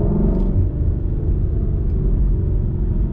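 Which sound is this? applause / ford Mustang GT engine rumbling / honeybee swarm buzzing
ford Mustang GT engine rumbling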